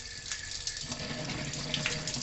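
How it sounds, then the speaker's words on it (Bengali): Potatoes, onions, tomatoes, ginger, garlic and green chillies being washed under a running kitchen tap before cooking chicken, a brief steady gush of water close by with faint splashing, no talking. "এগুলোকে ভালো করে জলে ধুয়ে নেবো"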